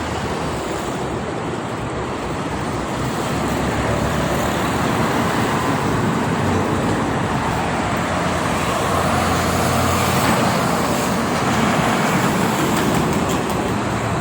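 Dense, steady roar of heavy night traffic with many trucks on the Jakarta-Cikampek toll road, a continuous loud wash of tires and engines with no pauses.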